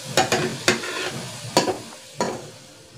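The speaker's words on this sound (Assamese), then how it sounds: "এতিয়া মোৰ পকৰিখিনি ফ্ৰাই কৰা হৈ গ'ল" Fish egg fritters sizzle in oil in a pan, broken by several distinct scraping stirs and flips at irregular intervals, close and clear with no talking.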